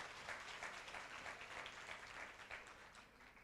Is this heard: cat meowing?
no